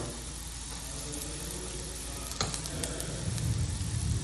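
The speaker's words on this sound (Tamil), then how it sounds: "வெங்காயம் நல்லா வதங்கட்டும்" Onions sizzle in a hot pan for onion rasam, a steady close frying hiss with occasional stirring clinks and scrapes, no voices.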